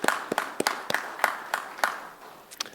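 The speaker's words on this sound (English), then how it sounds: "if we could give your loved ones a round of applause" Scattered applause at a corrections recruit graduation for the recruits' loved ones, a small group of nearby hands clapping in uneven, sharp individual claps that thin out toward the end.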